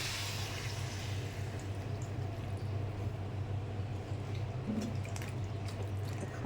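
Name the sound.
water being added to the cooking pan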